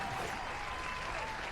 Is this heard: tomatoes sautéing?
no